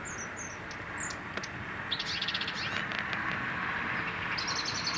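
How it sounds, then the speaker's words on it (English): Thin high calls of a long-tailed tit at a garden feeder, several short chirps scattered over steady outdoor background noise, no talking. "he's the long-tailed tit as well"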